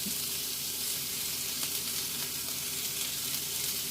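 Salted beef browns in a dry pan with no oil, a steady close sizzle and crackle that holds evenly for the whole stretch with no talking, part of a Brazilian feijoada.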